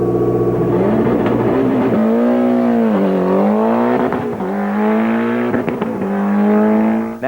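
A rally car engine revving loudly up close, pitch rising and dipping through several throttle blips, with a sharp burst near the end.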